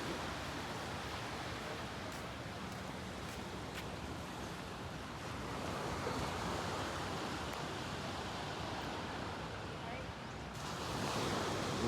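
Waves at low tide on Boracay's White Beach make a steady, broad wash of surf, softened by wind noise, continuous and even from start to finish.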